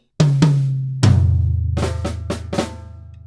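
A drum kit plays a single bar of a Grade 4 exam piece, with flam-accented hits on the snare and toms. Sharp, close strikes ring out over resonant tom decay, with no other instruments and no voices.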